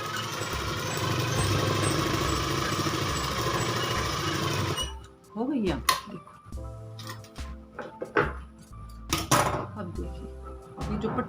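An electric sewing machine runs steadily for about five seconds while stitching a designer top, then stops, followed by scattered handling clicks and rustles of the fabric.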